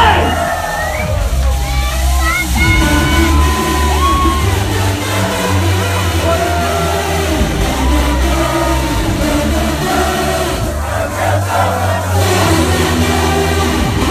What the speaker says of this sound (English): you have to give me your biggest scream